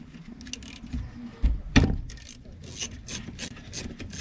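A wrench works at 14 mm bolts on a 2017 Kia Rio's brake assembly, giving a gritty ratcheting and scraping metal noise with a couple of sharp knocks, close up and continuous, with no talk.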